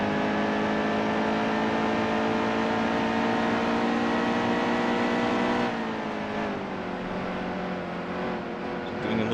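A NASCAR race car engine in the Nascar Heat 2 racing game at Phoenix holds a loud, steady high-revving drone, then its pitch dips and wavers after about six seconds as the throttle eases into a corner.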